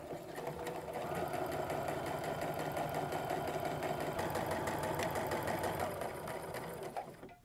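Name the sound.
sewing machine stitching a short seam on apron pieces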